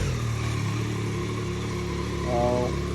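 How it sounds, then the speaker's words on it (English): A Yamaha MT09 SP motorcycle with its standard stock exhaust idling, a steady low engine burble close by that swells briefly near the end, with someone speaking over it. "let you listen to the sound of a standard exhaust system"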